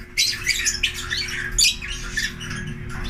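A bird in a Philippine bird-selling setting gives repeated harsh, raspy squawks close by, several bursts over a few seconds against a low background hum.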